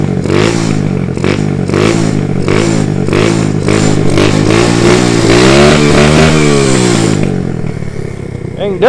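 A pit bike engine revs loud and close while being ridden, its pitch rising and falling in repeated throttle blips, then easing off near the end, with no talk over it.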